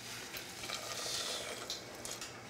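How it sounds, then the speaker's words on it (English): Boiling water poured over coated rice in a pot gives a steady, close hiss and rush of liquid that swells slightly midway and holds without a break, with no talking. "I'm gonna pour the boiling water into the rice."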